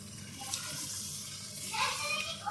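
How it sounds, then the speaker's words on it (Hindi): Water is poured into a chicken seekh kabab karahi, a steady splashing pour of about three cups heard close up over background noise. "अब तकरीबन मैं 3 कप पानी इसमें ऐड कर रही हूँ"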